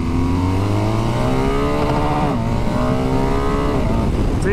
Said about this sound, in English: as you rev it, you know, the power, it does pull all the way up to the red line